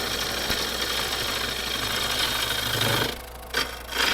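A heavy gouge cutting stubborn maple on a wood lathe gives a loud, steady rasping roar for about three seconds, then drops away briefly before short bursts of cutting resume.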